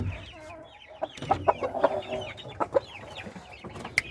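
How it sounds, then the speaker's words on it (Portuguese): Two young combatente game chickens, a bearded old breed, cluck and chirp up close in a short run of sharp, uneven calls with brief pauses between. "quero mostrar pra vocês, ó, dois franguinhos excepcional que eu tenho aqui"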